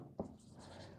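Marker or chalk scratching on a board during a physics lecture on light diffraction, a short scraping stroke with a brief tap at the start and end, faint and close.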